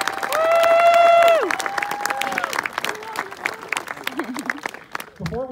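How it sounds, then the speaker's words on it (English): Crowd applause at a cross country championship awards ceremony, a loud burst of clapping that carries over a sustained ringing tone and then fades into quieter, scattered claps and background noise. "I want to hear a round of applause for Bethany's head coach who put the course together"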